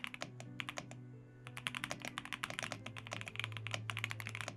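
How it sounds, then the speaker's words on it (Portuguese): Keys on an MSI x Frieren keyboard are pressed in quick irregular bursts, crisp close clicks and clacks with short pauses, over a faint low background hum. "Feedback tá bem gostosinho e o som tá bem satisfatório. Pô, bem maneiro esse teclado, tá?"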